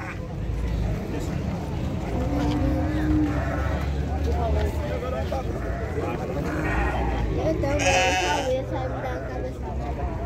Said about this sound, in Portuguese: Aí é bode aí